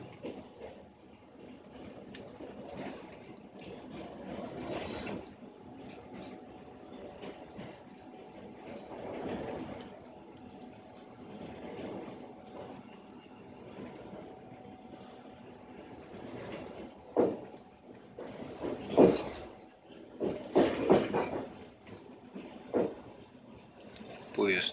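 A passenger train rolls on after leaving Chita railway station, with a steady rumble and rattle of carriages, occasional louder clatters and squeals, and people talking faintly over the noise.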